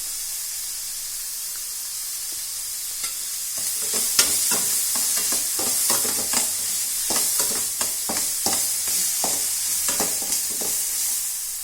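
Onions and ginger sauté in a pan for poha upma, a steady hiss joined after a few seconds by repeated, uneven spatula scrapes and stirring clatter, with no one talking.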